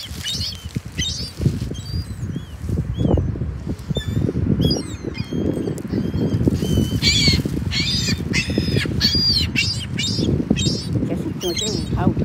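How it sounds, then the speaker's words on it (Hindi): Crows caw and smaller birds chirp busily while being fed, with pigeons close by, wings flapping and feet pattering amid a low background rumble, calls repeating in quick overlapping bursts. "कैसे चोंचे उठा के चहकारें भरते हैं।"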